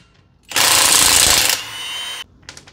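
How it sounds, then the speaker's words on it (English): A Milwaukee battery-powered impact wrench with a 19 mm socket spins a lug nut off a Ram wheel, one loud, harsh hammering burst of about a second that eases into a steadier whir before stopping, with no talk over it. "I'm using the Milwaukee battery-powered impact wrench."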